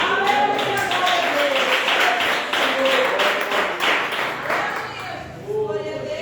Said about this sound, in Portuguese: glorifica a Deus com palmas